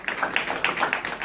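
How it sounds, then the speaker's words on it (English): An audience claps to welcome two speakers at a local talk, a brief patter of many hands heard fairly close in a room. "Let's give them a round of applause"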